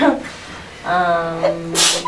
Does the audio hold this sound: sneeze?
yes